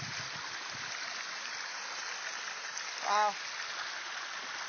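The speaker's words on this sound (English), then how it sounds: "Lots of running water." Running water of a small river behind a house, a steady broadband rush filling the whole clip at moderate level, with a brief spoken exclamation partway through.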